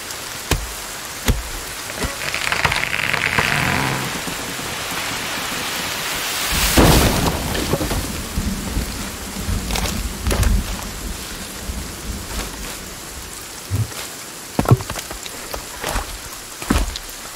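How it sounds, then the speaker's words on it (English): Steady rain patters throughout in the video game Sons Of The Forest, with a few sharp drops or knocks standing out and a louder gust-like swell midway. "Of course it'd be raining."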